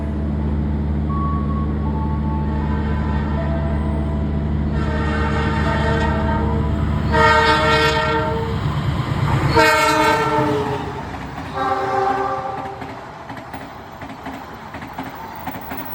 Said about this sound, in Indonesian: dari arah barat melintas langsung kereta api Pandalungan